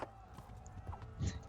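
Horse hooves clip-clop a few times in the medieval role-playing game Kingdom Come: Deliverance, faint and irregular over soft background game ambience.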